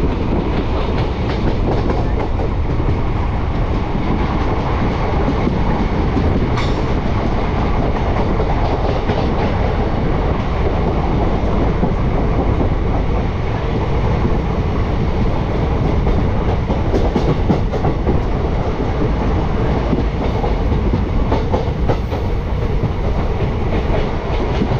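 The Kolkata–Lalgola Hazarduari Express runs through Murshidabad with a loud, steady close-up rumble and rhythmic clickety-clack of wagon wheels on the rails, continuous throughout with no talking.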